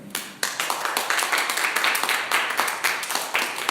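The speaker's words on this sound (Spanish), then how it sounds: "Denle un aplauso al Señor." Church congregation clapping in rhythm, a close, loud series of sharp, regular hand claps, steady and evenly spaced throughout with no talking.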